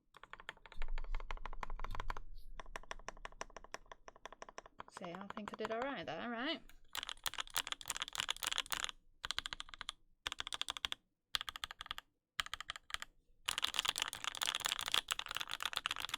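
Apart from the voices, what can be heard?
typing on J-01 custom keyboard with Banana Splits switches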